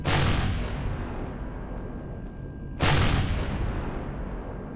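Rocket volleys fired from a capital ship in Empyrion Galactic Survival, two loud booming launch bursts a few seconds apart, each a sharp explosive onset trailing into a long roaring rumble.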